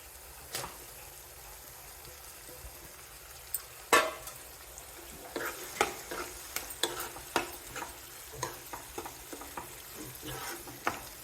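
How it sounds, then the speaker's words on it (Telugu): Mushrooms frying in a pan with cashew paste curry, salt, chilli and turmeric, stirred with repeated scraping clicks and a soft sizzle that grows busier after a sharp knock near the middle, with no talk. "ఇప్పుడు మష్రూమ్స్ వేసేస్తున్నాను"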